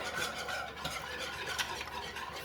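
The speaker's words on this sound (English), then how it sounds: "I'll give this a little whisk, kind of stir it up a little bit." A whisk beats condensed milk and milk together in a bowl, a quiet, close, steady swishing and scraping that runs through without a break, with no talking.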